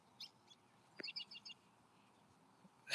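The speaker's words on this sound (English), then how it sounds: "These birds look like they're fighting." Birds squabble outdoors with quick, faint chirps and short tweets in scattered bursts over a steady background hum.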